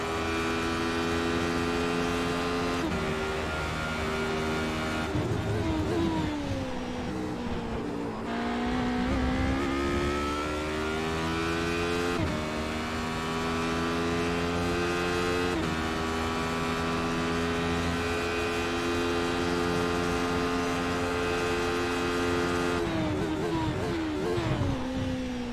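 A car engine in a racing simulator game drones and revs steadily, with gear-shift changes in pitch over a constant hum throughout.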